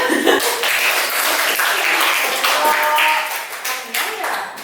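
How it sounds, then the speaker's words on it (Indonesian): A classroom of students claps their hands together, a loud, dense burst of many claps that runs for several seconds, mixed with children's voices and chatter. "Tepuk tangan dulu."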